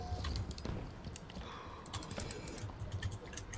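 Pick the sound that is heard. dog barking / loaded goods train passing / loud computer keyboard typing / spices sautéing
loud computer keyboard typing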